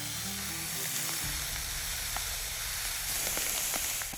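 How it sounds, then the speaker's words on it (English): A knife blade slices repeatedly into bags of sand, producing a steady gritty, hissing rasp of granules scraping steel, with a few sharp ticks near the end; close and continuous throughout. "Mr. Allen will be cutting into these bags of sand with your knives."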